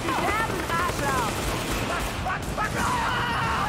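Gunfire in the video game Tom Clancy's The Division: dense, continuous bursts of shots and fusillade noise throughout, with faint voices mixed in underneath.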